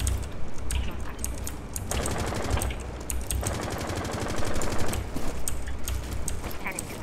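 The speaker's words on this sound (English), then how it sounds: "I actually managed to shoot Jibinjal." Rapid automatic gunfire from the Rainbow Six Siege shooter game rattles in long, dense bursts nearly throughout, loud and close, with brief pauses between volleys.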